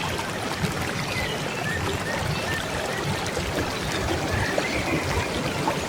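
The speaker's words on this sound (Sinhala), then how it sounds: "බලන්න වතුර පාරේ සැර" A strong stream of water rushes past in a continuous loud, broadband roar, close and steady with no pauses.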